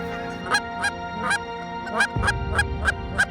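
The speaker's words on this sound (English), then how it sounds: "The birds are coming in" Geese honk repeatedly in loud, regularly spaced calls as waterfowl fly in over an early-season hunting spot in Saskatchewan, with a low rumble rising partway through.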